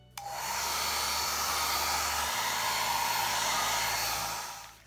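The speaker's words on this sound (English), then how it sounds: "I am using blow dryer." A blow dryer runs steadily and loudly at close range, drying paint on a mixed media art board. It starts abruptly, holds an even roar for several seconds, then cuts off, with no voices.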